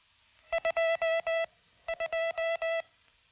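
Two short bursts of keyed tones from a J-38 telegraph hand key, crisp dots and dashes of Morse code in a clipped on-off rhythm, separated by a brief pause and heard alone.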